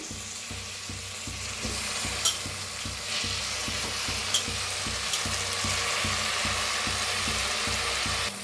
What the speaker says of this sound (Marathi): छान भाजून घेऊया बटाट्याला बी